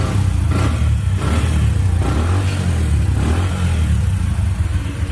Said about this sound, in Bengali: দেখেন বাইকটা এখনো রানিং এ আছে